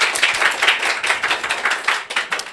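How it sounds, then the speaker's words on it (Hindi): A room of seated students clapping together, a close, loud burst of many hands with an uneven pulsing rhythm that runs for a couple of seconds, no talking. "ताली बजा दीजिए"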